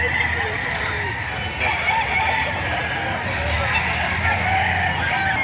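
Several roosters crow loudly and repeatedly over a busy background of clucking chickens and crowd murmur at a chicken market in Padre Garcia, Batangas.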